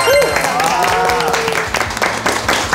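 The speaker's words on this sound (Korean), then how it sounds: "두 분 선생님들께 큰 박수 부탁드립니다" A studio audience on a Korean beauty TV show gives a steady round of applause that fills the whole stretch, with a voice briefly heard at the start.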